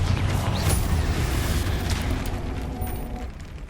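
Confringo fire spell in the video game Hogwarts Legacy, a heavy rumbling explosion that booms up close and rolls on steadily for several seconds, slowly fading, with no talk over it.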